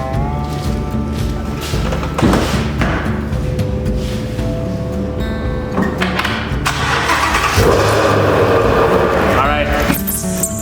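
A 2016 Ford Mustang GT350R with a jump box attached cranks over and its engine fires up, loud and close, with thumps and shifting revs as it catches and settles, while people talk nearby.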